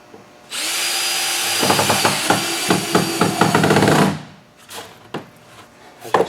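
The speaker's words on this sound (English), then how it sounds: "I would screw it all the way down the wall, making sure it's good and secure." A power drill drives Phillips head screws into a wall, whirring loudly for several seconds with rising and falling pitch and clicking bursts, then stopping, followed by a few short knocks and handling sounds.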